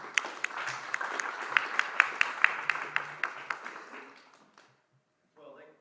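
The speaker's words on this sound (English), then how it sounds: "give a round of applause to Nathan" Applause for a speaker taking the stage at an academic talk on the US–China trade war, moderate clapping with a few sharp individual claps, tapering off over several seconds before a voice begins speaking.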